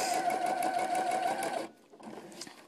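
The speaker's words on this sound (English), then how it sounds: "I'm going to keep sewing down this elastic" A sewing machine stitching elastic down onto a cloth diaper, a loud close rapid motor hum and needle clatter that runs steadily, then stops abruptly and restarts more quietly.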